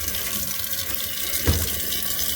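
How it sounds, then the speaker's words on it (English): Cold water runs steadily from a kitchen tap for rinsing freshly churned butter, a close, continuous splashing stream with a brief louder splash midway. "with cold water, we're going to rinse and knead our butter"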